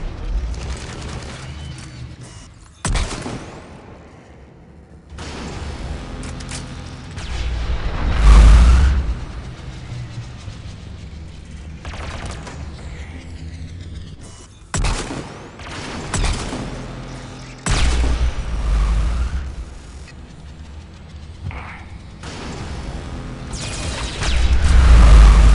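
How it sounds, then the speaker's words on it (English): Rocket fire in Mass Effect 3, a shooter game: a run of sharp, loud blasts and booming impacts at irregular intervals over a constant rumbling battle backdrop, some near and punchy, others duller. "Oh, stop shooting me with those stupid rockets!"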